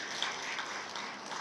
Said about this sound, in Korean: 우리 정명숙 불자님께도 큰 박수 한번 해주시기 바랍니다.